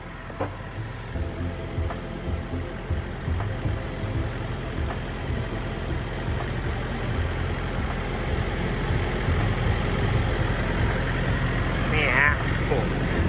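A Kobelco SK135SRD-5 12-ton excavator engine runs steadily with its cover open, heard up close as a continuous low idling drone with faint mechanical ticking throughout.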